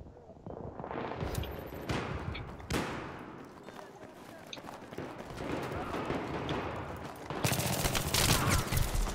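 Rapid gunfire bursts in a Battlefield 3 multiplayer Gun Master match on the Scrapmetal map, loud and nearly continuous with sharp volleys and a heavier barrage near the end, while players talk over it.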